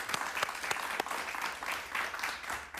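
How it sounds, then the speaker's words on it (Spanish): Studio audience applause on a Spanish-language talk show, with dense clapping and a few sharp individual claps standing out. It carries on evenly for about three seconds. "Un aplauso para él, por favor."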